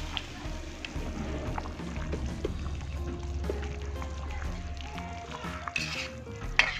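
Lemongrass stirred into simmering beef for Acehnese sie reuboh, a spoon scraping and stirring steadily in the pot with bubbling liquid and a faint tonal background throughout.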